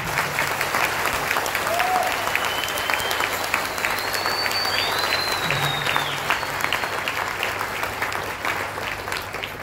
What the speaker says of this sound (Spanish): Vamos a darle otro aplauso.